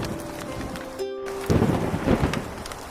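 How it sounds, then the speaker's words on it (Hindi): Heavy rain pours steadily as a storm begins, with a rumbling swell of thunder midway, setting a cartoon countryside scene under a tree. "ये क्या, मौसम खराब हो गया, बारिश शुरू हो गई। लगता है तूफान आने वाला है।"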